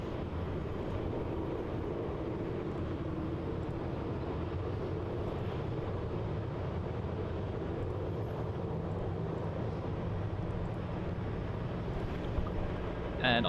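A Qantas Boeing 737-800 departing Melbourne Airport makes a steady, broad jet rumble heard from a distance, holding fairly even throughout with a soft wind-like roar beneath it.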